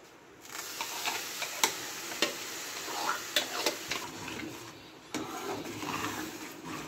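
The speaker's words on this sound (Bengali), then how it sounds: "ভালো করে নাড়াতে হবে আর গ্যাসটাকে মিডিয়াম রাখতে হবে।" Raw mango pulp stirred in a pan over medium heat: a soft sizzling bed broken by repeated sharp clicks and taps of the spoon on the pan, at an uneven rhythm.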